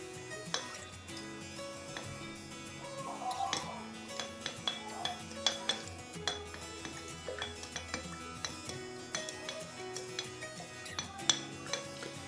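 A round paintbrush swirls in a jar of cleaner, giving repeated small clinks and taps against the glass in an uneven rhythm, close and fairly quiet.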